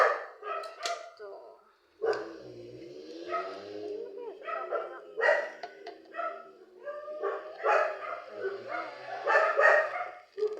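Several dogs bark and yip in a noisy, overlapping chorus close by, going on steadily with short pauses, while people talk nearby.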